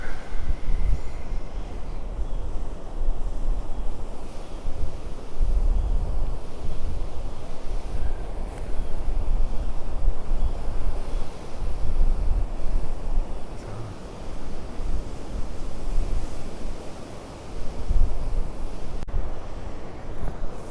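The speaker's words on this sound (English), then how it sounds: "Wonderful shots of the waves as they approach the rocks." Ocean surf at Bodega Head rolls and breaks against the rocks below hillside cliffs, a continuous broad wash of water with wind noise buffeting the microphone throughout, no voices.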